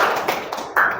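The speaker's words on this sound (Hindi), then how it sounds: "आप लोग ताली बजाएं।" Hands clap a few times in a loose, uneven rhythm, close and fairly loud, each clap short and sharp.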